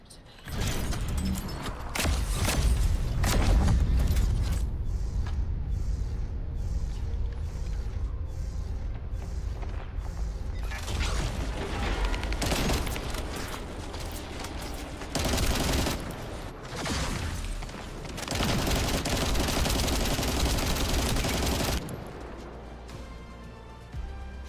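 A summoned combat turret in The First Descendant firing in long sustained bursts with mechanical whirring and booms, loud and dense, pausing briefly between volleys and trailing off at the end.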